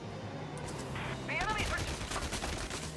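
Rapid Gatling turret fire rattles in Valkyria Chronicles 4, a dense continuous burst of mechanical gunfire with whistling in-game effects, while a voice talks over the action.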